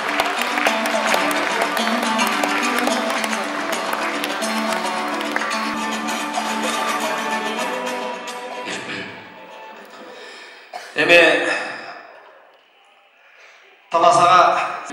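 Audience applause at a Kyrgyz aitysh, an improvised poetry contest between akyns. Two short bursts of clapping break out after a long stretch of music, loud and close.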